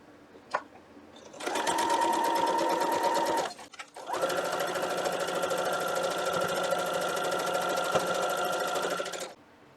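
A Brother XR9550 sewing machine chain-pieces quilt block fabric in rapid, even stitching bursts, pausing briefly midway before resuming, close and clear with no talk.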